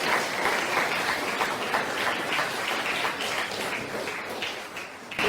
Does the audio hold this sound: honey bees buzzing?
no